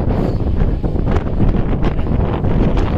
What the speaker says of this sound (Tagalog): Sa hangin, grabe.